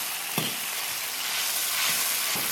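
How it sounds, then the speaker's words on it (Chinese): Chilli bean paste frying in hot oil in a wok with scallion, ginger and dried chillies, a steady broadband sizzle with a few brief stirring scrapes, close and loud, no talk. "炒香以后来一大勺豆瓣。"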